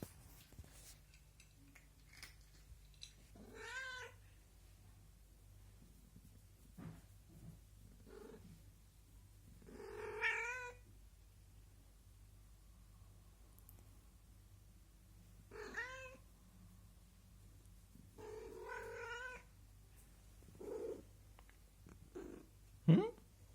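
A cat meows in several short bursts, with soft purring under them in places, close and moderately quiet against a steady low background hum.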